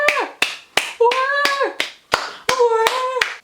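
Several sharp hand claps ring out in an uneven series, loud and close, with voices sounding between and beneath them.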